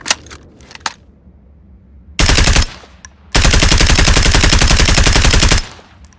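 An M4A1 rifle in a video game fires loud, close automatic bursts, a short burst followed by a longer sustained one of rapid even shots, after a few faint mechanical clicks.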